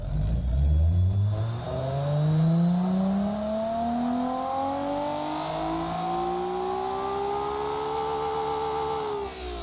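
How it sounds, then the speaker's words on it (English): Simulated 2JZ inline-six engine from the game Automation, a 3.4 L drift build with a GTR-style manifold, revving steadily upward to a very high pitch over about ten seconds, loud and continuous with no talking. "I know no stock HR is revving that high"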